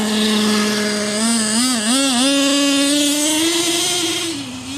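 A Traxxas T-Maxx nitro RC truck engine runs loud and close during break-in with a high, buzzing whine whose pitch rises, dips and wavers as the throttle is blipped, then steadies.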